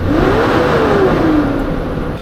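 A 2015 Infiniti QX80 engine with poor compression runs roughly close by, a rumbling idle with an uneven, lumpy tone and a brief rise in pitch, no talking.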